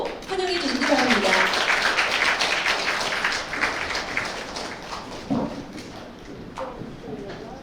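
An audience at a Korean science lecture on cars applauds to welcome a speaker, a dense crackling wash of clapping that starts strong and gradually thins out, with a voice briefly audible near the start.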